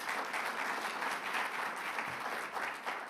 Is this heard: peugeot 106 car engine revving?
no